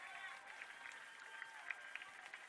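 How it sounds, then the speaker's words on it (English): Parents applaud from the far side of the field at the end of a girls' junior varsity high school soccer match, the clapping faint and distant with a few sharper claps standing out. "A big round of applause from the far side"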